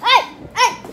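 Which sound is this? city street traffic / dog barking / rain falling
dog barking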